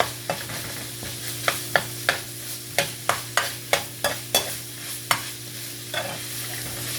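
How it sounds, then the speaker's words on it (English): Onion sweating in grapeseed oil for turkey chili, a steady close sizzle broken by a regular series of sharp spoon scrapes and taps against the pan, roughly one every half second. "I'm going to add a little bit more grapeseed oil. Let that onion sweat."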